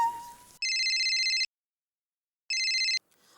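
A telephone rings during a call, with two bright electronic trills, a long burst followed by a pause and then a shorter one, clear and close with no talk over them.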